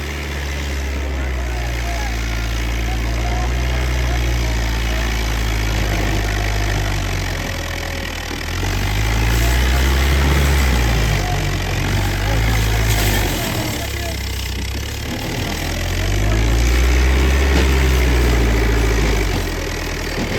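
A New Holland 850 tractor engine labours steadily while pulling a heavily loaded sugarcane trolley, a loud, continuous drone that rises and falls with load throughout, with no voices over it.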